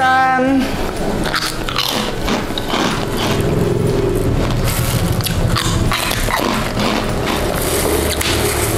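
Loud, close crunching bites into crisp kemplang jengkol crackers, a series of sharp brittle snaps followed by chewing, with no talking.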